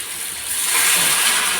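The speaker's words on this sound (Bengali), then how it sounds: "দিয়ে দিলাম গরম জল, একটু ফুটলেই তরকারি হয়ে যাবে।" Hot water pours into a curry cooking in a pan, a soft, close hissing gush that builds and holds steady through the short moment.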